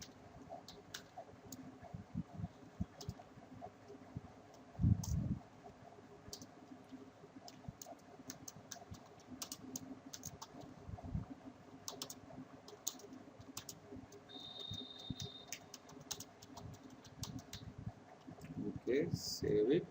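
Computer keyboard typing while code is written into an index.html file in the Eclipse editor, a steady run of light, quick key clicks with a few heavier thumps, faint and close, with occasional talk.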